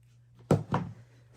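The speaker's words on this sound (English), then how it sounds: "I'm going to take this and I'm going to cut this in half." Scissors cut a strip of fabric in half for zipper tabs, two quick crisp snips about a quarter second apart over a faint steady hum in a quiet room.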